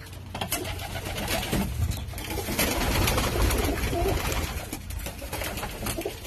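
Tippler pigeons coo steadily in a loft, a continuous soft murmuring chorus of many birds close by, with faint rustling underneath.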